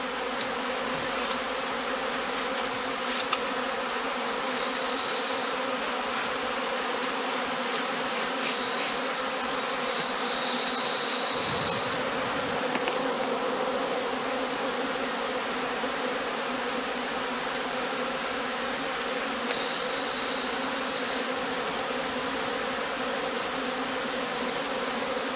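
Honey bees swarming around traditional straw skep hives in Germany, a dense continuous buzzing drone that stays steady and fairly loud throughout, with no voices.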